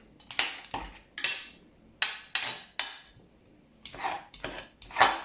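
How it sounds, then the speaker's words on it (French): A knife cuts vegetables into rounds on a board for a Moroccan salad from Taza, each stroke a sharp close chop in an uneven rhythm of about ten cuts with short pauses between. "on va commencer à couper en rondelles comme ça"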